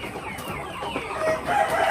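Chickens cluck close by on a poultry farm, a busy overlapping chatter of several birds with no talking.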